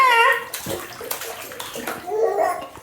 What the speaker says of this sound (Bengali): দুপুরবেলা প্রিন্সের একটু বেশি গরম লেগেছে, এর জন্য একা একা স্নান করতেছে